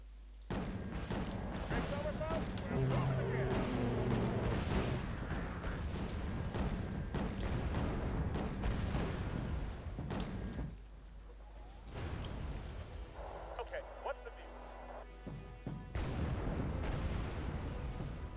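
Anti-ship missiles striking and exploding during naval combat in the Wargame Red Dragon strategy game, a dense run of booms and blasts at close range, with a brief lull midway and talk over the top.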